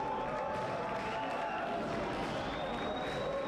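Crowd at a boxing event applauding both fighters after a round-one knockout, a steady wash of clapping and murmuring voices from a large audience with a faint tonal hum running underneath.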